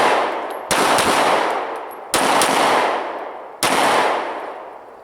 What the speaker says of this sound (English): But right now we're just going to go out, present the weapon, do some shooting.